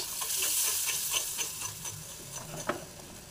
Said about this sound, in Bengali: আমি এর মধ্যে দুধ না দিয়ে আমি একটু জল মিশিয়ে দেবো।